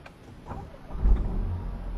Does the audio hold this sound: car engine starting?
yes